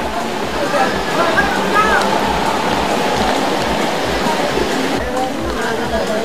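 Floodwater from the Santa Rita River rushes loudly and continuously through narrow village alleys during a flash flood, a dense, unbroken roar of flowing water.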